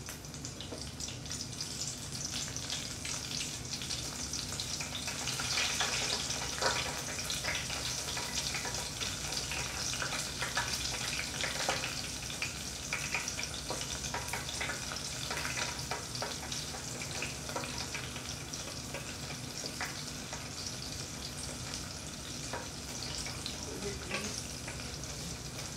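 Panko-breaded shrimp fry in a deep fryer of hot oil, giving a steady moderate sizzle and crackle that holds evenly throughout with no talk over it.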